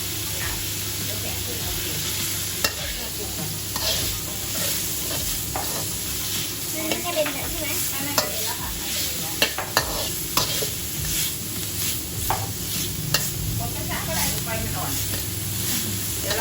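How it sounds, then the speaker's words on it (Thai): Minced pork stir-fries in a hot pan with a continuous sizzle and repeated scraping strokes of a spatula, while someone talks over the cooking. "คั่วหมูให้สุกก่อนนะคะเดี๋ยวค่อยปรุง"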